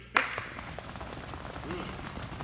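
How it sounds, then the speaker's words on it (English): A group claps together on command, making one sharp, loud clap near the start. Talking and faint shuffling follow. "First clap, hitting the line. Second clap, stop."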